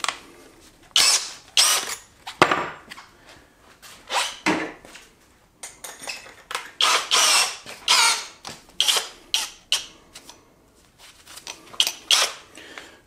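A Greenworks cordless drill bores through wood in repeated loud bursts, the motor whining up and dropping off between short pauses, with ratcheting clicks and squeaks from the bit biting the workpiece.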